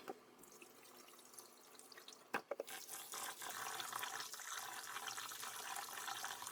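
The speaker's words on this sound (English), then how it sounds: "So I'm going to go ahead and rinse it, and then we can steam it." Water runs steadily into a sink, swirling and splashing as soaked sticky rice is rinsed, with a few brief clinks early on before the flow grows fuller.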